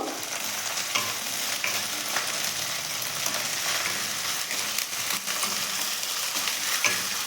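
Ginger paste and crushed garlic fry in a kadai wok, giving a continuous crackling sizzle close by, with frequent scraping stirs and small pops throughout.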